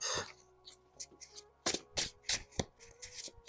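Tarot cards are handled and shuffled up close for a cross spread, giving a series of crisp, papery riffling bursts in an uneven rhythm, with nothing else in the foreground.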